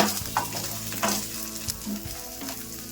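Roasted gram and a small piece of tamarind heat in a pan for curry leaf chutney, a close dry sizzle with repeated scraping stirs at a steady rhythm.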